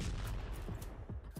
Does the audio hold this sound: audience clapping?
no